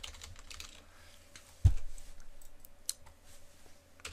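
Light tapping of keys on a computer keyboard, a sparse run of soft clicks close by, with one heavier thump partway through and quiet room tone underneath.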